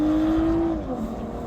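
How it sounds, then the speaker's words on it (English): Unmodified 2023 BMW at full throttle on a mile-long top-speed run at a timing event, giving a loud, sustained engine drone that holds a steady pitch and then eases off, with no talk over it. "Goes the BMW, maxing it out around 152 in the mile."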